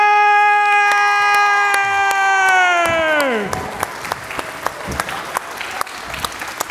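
Applause for an assistant pastor being introduced, preceded by a loud sustained tone that slides downward; the clapping then follows as scattered, fairly sparse claps over a lighter background.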